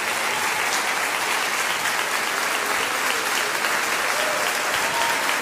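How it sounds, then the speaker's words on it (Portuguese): A church congregation at a Baptist service applauds loudly and steadily, thick sustained clapping from a large crowd without a break. "se você foi muito abençoado, eu quero que você aplauda o nome do Senhor pela vida do Stephen e do Igor"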